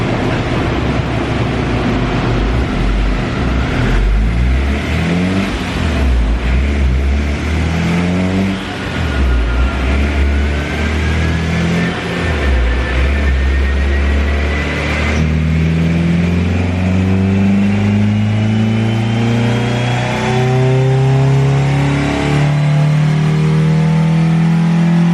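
A Honda Integra Type R engine, running on a timing setup with too much advance, revs steadily and loudly for the whole stretch, its pitch climbing in long sustained pulls with no talk over it.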